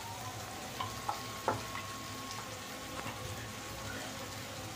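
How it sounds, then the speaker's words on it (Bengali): Pressure-cooked mutton stir-fried in a kadai for Bengali-style mutton curry, with a steady close sizzle broken by a few sharp scraping knocks of the spoon. "যে সিটি মেরে রেখেছিলাম সেটা দিয়ে দেব, দিয়ে এটাকে ভালো করে কষাতে হবে"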